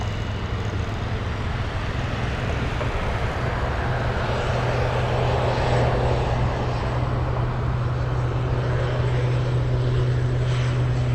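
An aircraft engine powering down at Anchorage airport, a steady droning roar with a low constant hum, loud and continuous throughout without clear voices.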